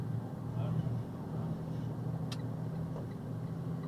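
A truck engine idles roughly with fuel gelled in cold morning weather, a low steady droning rumble with faint uneven pulsing, heard at moderate distance.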